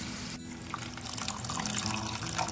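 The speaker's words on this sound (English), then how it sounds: "So add around 2 cups of water." About two cups of water pour steadily from a vessel into a hot pan of roasted green chilies and curry leaves for besan dhokla, a continuous close splashing and bubbling over a low stove hum.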